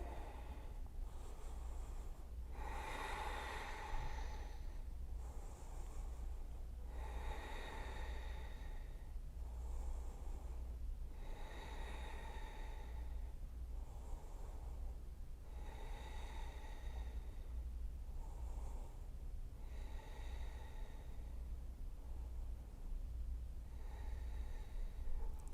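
Slow, deep breaths in a Malasana squat during a hip-opening yoga stretch, several long airy inhales and exhales repeating at an even pace, soft and close.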